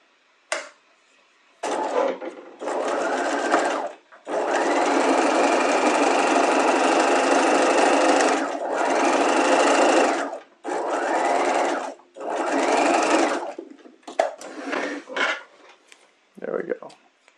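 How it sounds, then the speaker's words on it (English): A sewing machine stitches down a seam allowance in loud, steady runs of rapid mechanical whirring, stopping and starting several times with short gaps between the bursts. "let's isolate the other seam allowance away from everything else, and we'll stitch down the center of that one now"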